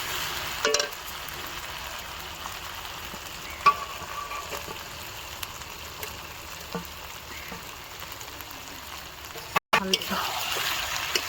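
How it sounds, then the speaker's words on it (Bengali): Solid chicken pieces go into a hot frying pan of spiced oil for chicken ghugni curry, with a steady soft sizzle, occasional stirring clinks and brief sharper knocks; a voice talks at times over the cooking. "বাদ বাকি যে মাংস টুকরোগুলো আছে সলিড মাংস সেগুলো দিয়ে দেবো"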